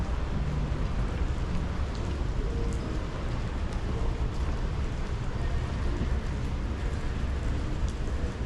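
Steady, dense rain pours down in Istanbul without a break, a continuous close hiss of drops hitting surfaces, with no voices over it.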